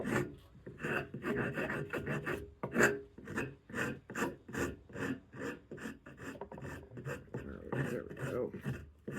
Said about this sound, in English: It doesn't look like you hit it with a saw or a chisel when you rasp it around